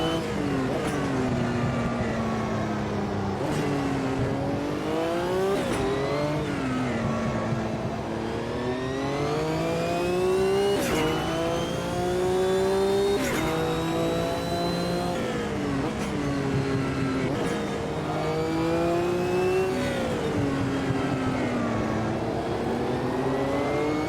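In the video game Automobilista 2, GT Classic and vintage touring race cars battle, engines revving and shifting in repeated rising sweeps, loud and steady throughout with no talking.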